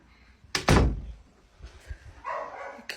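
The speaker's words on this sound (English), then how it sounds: "let me close this door" A house door swings shut with one sharp, loud slam and a fading thud, followed by faint shuffling and a brief rustle in an otherwise quiet room.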